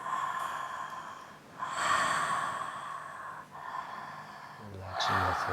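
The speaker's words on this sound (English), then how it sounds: "No break, no break, no pause. Keep breathing." Deep, continuous breathing during a BioDynamic Breath and Trauma Release breathwork session, with strong airy inhales and exhales heard up close. Near the end a brief snort-like gasp cuts through.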